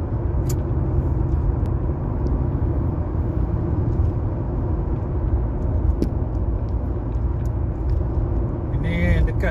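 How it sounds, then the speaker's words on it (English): Heavy, slow-moving highway traffic near Bentong, Malaysia, forms a steady low rumble of engines heard from inside a vehicle, with occasional clicks and people talking over it. "Sampai pada terowong masih heavy traffic."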